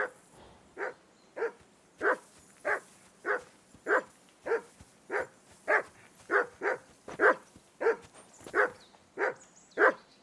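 A dog barks in the medieval video game Kingdom Come: Deliverance 2, about fifteen evenly spaced, fairly loud barks repeating in a steady rhythm for ten seconds with no talk over them.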